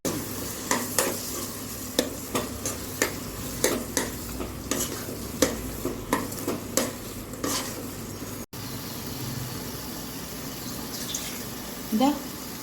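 Ground masala paste of tomato, tamarind, curry leaves, garlic and coconut hits a pan for a kovakkai curry, with rhythmic stirring scrapes over a steady sizzle and a brief splash near the end.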